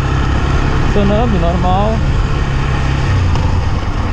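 A Yamaha XTZ 125 motorcycle engine runs close by with a steady low drone that shifts slightly as the throttle is worked, while someone speaks over it.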